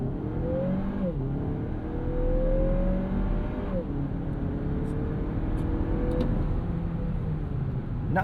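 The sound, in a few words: 2025 Lexus NX 350 turbo SUV accelerating 0 to 60 in Sport Plus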